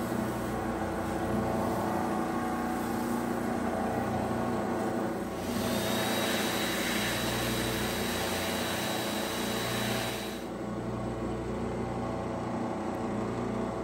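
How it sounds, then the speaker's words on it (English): A stone cabochon is polished on a 1200 grit soft diamond wheel at a lapidary machine. The motor gives a loud, steady whine throughout, with a brighter grinding hiss in the middle stretch while the stone presses against the wheel. "Now to the 1200 grit soft diamond wheel."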